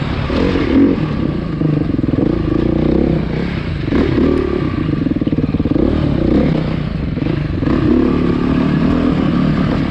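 A 2020 Beta motorcycle ridden hard and loud for the whole stretch, engine revving and surging continuously, with clattering and scraping from the bike working over rough ground.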